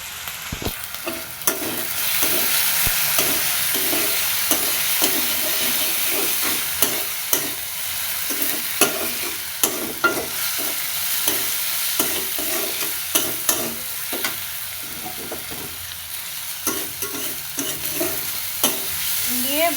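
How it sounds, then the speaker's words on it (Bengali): Potatoes seasoned with salt and turmeric fry in hot oil, a steady loud sizzle running throughout with frequent scraping stirs of a utensil against the pan. "মশমশা করে আলুগুলো ভেজে নেব।"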